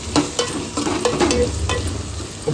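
Chopped tomatoes stir-fry and sizzle in a hot pan while Madurai-style country chicken gravy is made, a steady crackling fry broken by repeated scraping strokes of a spoon.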